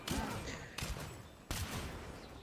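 Rapid bursts of gunfire as a character shoots enemies from midair in the Genshin Impact video game, three loud volleys under a dense game soundtrack, with no talk.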